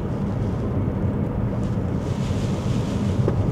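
Wind buffeting a microphone, a constant low rumbling roar with no talking, loud and unbroken throughout.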